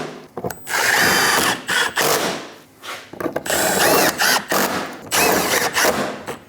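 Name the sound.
tightening bumper bolts on a Dodge Durango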